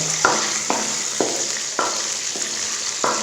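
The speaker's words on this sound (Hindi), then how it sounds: "घी को हम गर्म कर लेंगे और इसमें अपने डालेंगे बादाम जो हमने बनाए। बादामों को अच्छे से करेंगे गर्म।" Almonds roast in hot ghee in a pan, a steady close sizzle broken by regular scraping stir strokes about every half second, loud and with no talk.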